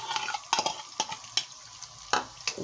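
Kishk is stirred in a frying pan with melted butter, giving soft sizzling with scraping utensil strokes against the pan at an irregular rhythm, close and moderately loud, with no talking.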